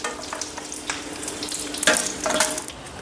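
Pointed gourd fritters fry in hot refined oil in a pan. The sizzling is close and steady, with utensil clinks and stirring scrapes that grow louder in short bursts toward the end.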